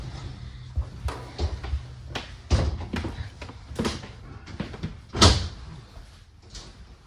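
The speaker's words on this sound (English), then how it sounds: "This door is going to have a sliding door to get into the bedroom." A sliding bedroom door in a 2024 Heartland Big Horn Traveler 32RS travel trailer gives a series of irregular knocks, rolling slides and thumps, one sharper bump near the end, with no talk.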